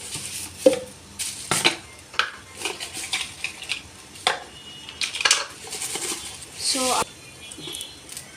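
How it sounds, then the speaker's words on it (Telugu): A set of new spoons is handled and sorted, with scattered close metallic clinks and taps of cutlery knocking together over several seconds. "సో ఇలా అయితే వచ్చినాయండి స్పూన్స్."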